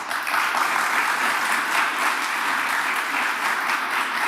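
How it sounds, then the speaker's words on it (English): Audience applause at the NYSE American listing event for Marti Tech, a dense, steady wall of clapping from a large crowd that holds at an even level for several seconds, with no voice over it. "everybody clapped before I said what I'm going to say"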